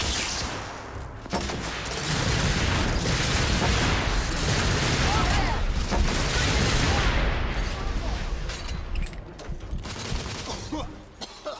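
Suppressive gunfire in the video game The Order: 1886, a dense sustained barrage of rapid shots and crackling impacts that swells loud in the middle and tapers off, with shouted voices mixed in.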